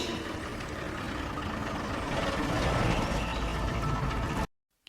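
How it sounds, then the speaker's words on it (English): A lorry engine rumbles steadily as it climbs a country lane toward a cottage, a loud, continuous low drone that cuts off abruptly near the end. "Listen, I can hear a noise. It's a lorry. It's coming up the lane to the cottage."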